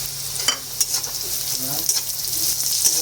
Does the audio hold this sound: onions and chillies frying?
yes